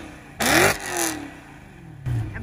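A BMW M3 E92 V8 revs sharply twice, each short blip rising and falling with a loud, crackling roar, close by and with no talking.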